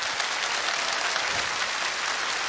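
A studio audience at the Korean TV singing contest Jeonguk Noraejarang applauds as a composer judge is introduced, a steady, even roar of clapping with no talk.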